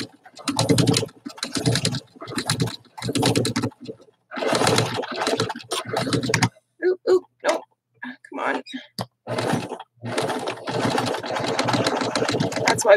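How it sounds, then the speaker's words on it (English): A sewing machine stitching furry fabric runs in short bursts of rapid whirring, stopping and restarting several times, with quiet speech and soft handling noises in the gaps. "it's a little bit trickier to sew things with fur up like that because it can clog your machine."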